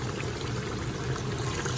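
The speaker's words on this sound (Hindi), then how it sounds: "तो तकरीबन ये 4 कप पानी है जो कि मैं इसमें ऐड कर रही हूँ।" Water, about four cups, pours steadily into a cooking pot of beef nihari in a continuous, splashing stream, fairly quiet and unbroken, with no talking.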